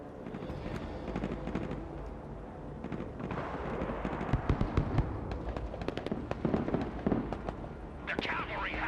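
Mortar artillery in the war game Broken Arrow fires and lands in a dense run of cracking bursts and rumbling booms, mid-distance and continuous, building in intensity toward the end over steady battlefield noise.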